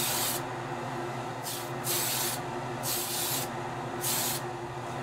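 A spray can of primer hisses in four short, even bursts as light mist coats go onto a model, each spray about a second long and separated by brief pauses.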